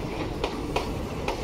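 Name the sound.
Hazarduari Express train at Ranaghat station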